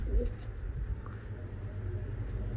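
Pigeons coo low and steady in a loft among new and old birds, a soft continuous murmur with no talk.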